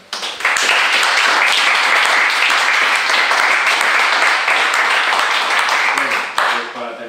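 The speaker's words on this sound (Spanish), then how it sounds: "agradecerte un aplauso" An audience at a Fundación Socialdemócrata conference breaks into applause, with loud, dense clapping that starts abruptly, holds steady for about six seconds and then tapers off as a voice begins.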